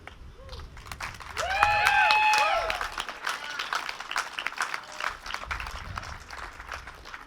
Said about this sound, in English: Thanks for clapping at the good bits.